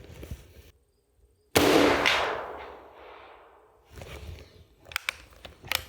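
A Remington Rolling Block rifle loaded with 23 grains of IMR 4198 powder fires a single loud, sharp shot, whose boom decays over about a second, followed by quieter handling noises and faint movement outdoors.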